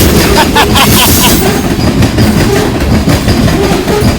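Union Pacific CA-10 heavy manifest freight train with distributed power units rumbling past a historical site in the mountains, loud and close, with continuous wheel clatter and rail rumble, plus a faint voice briefly.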